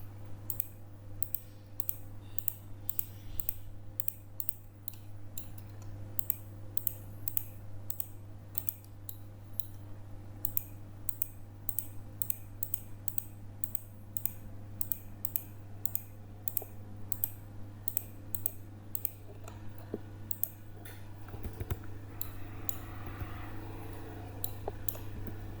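Computer mouse clicking steadily while mapping survey data for a mining site, with many small crisp clicks in loose rhythm over a low electrical hum, quiet and close.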